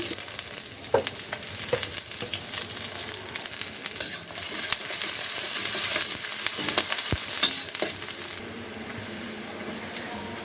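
Chopped onions sizzle steadily in a hot pan for a Bangladeshi coconut duck curry, a dense continuous frying hiss with occasional sharper pops and stirring scrapes, close and fairly loud, no voices.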